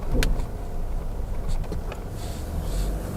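A 2016 Toyota Hilux Revo 2.4 Smartcab Prerunner E pickup with a 2.4-litre engine and automatic gearbox accelerates, giving a steady, close low rumble of engine and road noise inside the cabin, with a few light clicks.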